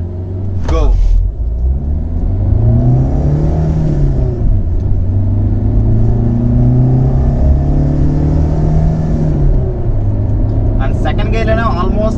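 Hyundai i20 accelerating hard through the gears, heard loud and close: the engine note climbs steadily and dips at each of two upshifts before rising again.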